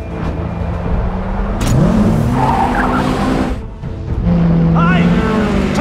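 Race cars on a circuit during a multi-car crash at a low-speed corner, with loud engine revving, sharp tire squeals and skidding screeches, punctuated by a brief impact, with a commentator's voice running over the top.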